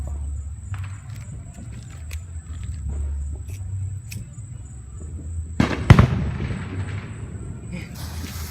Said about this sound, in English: We got another twister going out.